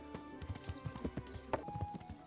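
Steady clip-clop of horse hooves trotting at an even rhythm in the video game Kingdom Come: Deliverance, fairly quiet and close, with no voices.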